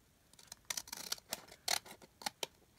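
Scissors snip through paper for a junk journal pocket, a close, crisp series of short cuts in an uneven rhythm with small pauses between strokes, no voices.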